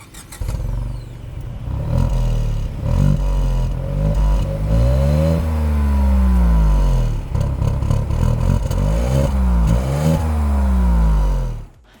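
A Tata Altroz Racer engine revs up and down repeatedly through a sporty dual exhaust, loud and close, with rising and falling sweeps of deep throaty tone.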